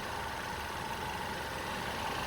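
Idling 2-liter 4-cylinder engine of a 2022 Mercedes-Benz E350, a steady, faint, even hum with broad noise and no changes in pitch, heard alone over a couple of seconds.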